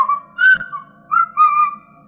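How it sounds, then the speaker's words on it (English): A boy whistles a happy little tune, clear and close: a few held melodic notes that rise and fall, alone with no other sound. "a boy's whistle like this"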